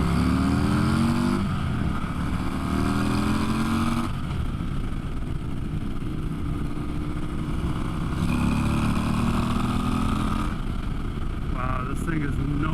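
A big motorcycle with a 121 engine and slip-on exhaust rumbles and revs loudly up close, its throaty exhaust note rising and falling as it pulls away.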